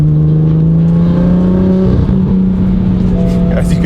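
BMW F82 M4 with a valvetronic exhaust, valves open, revving while not yet fully warmed up; a loud, steady engine drone with layered exhaust tones that climbs in pitch near the end, close by.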